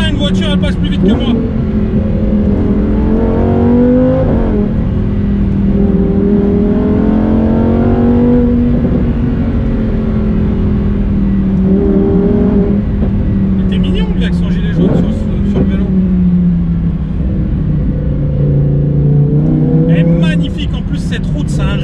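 Lamborghini engine pulling hard on a winding road, a loud continuous drone whose pitch rises and falls through gear changes for the whole stretch, with brief rattling bursts and no voices over it.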